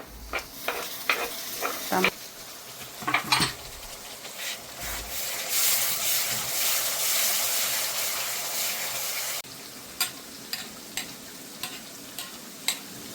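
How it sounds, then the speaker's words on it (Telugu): A spoon stirs salt and chili powder through sizzling nethili fish curry, with repeated scraping taps in a steady rhythm over a continuous frying hiss that swells in the middle. "ఉప్పు కారం వేసుకొని బాగా కలుపుకొని తర్వాత టమాటా పేస్ట్ వేయాలి"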